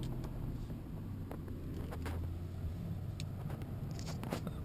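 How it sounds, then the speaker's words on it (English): A Lexus LS 430 engine on a cold start settles into a steady, low idle rumble, with a few faint clicks and knocks over the continuous drone. "do a little cold start here"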